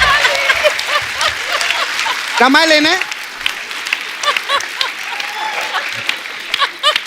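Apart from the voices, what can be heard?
studio audience applause on comedy show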